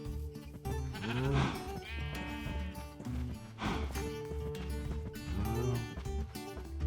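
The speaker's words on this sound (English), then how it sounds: "We've also got a sheep in there" A sheep in Minecraft bleats repeatedly in wavering, nasal calls that come in several bursts over steady background game sound.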